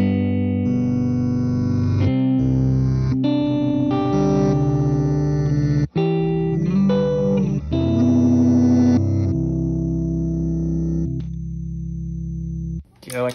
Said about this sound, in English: And this is an octave down reverse thing.